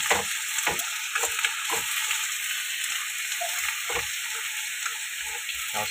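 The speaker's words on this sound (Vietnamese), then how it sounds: "Rồi ra xào lại chung với tỏi nha" Pork offal stir-frying with garlic and pickled mustard greens in a pan gives a steady, loud sizzle broken by repeated scraping stirs and clacks, with no talking.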